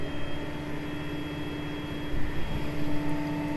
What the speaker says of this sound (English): Lower the planter down to start the air compressor.